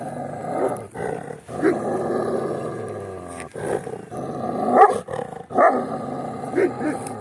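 A Turkmen alabai dog at a test tournament growls in deep, rumbling stretches with a few sharp bark-like bursts, loud and close, while people talk nearby.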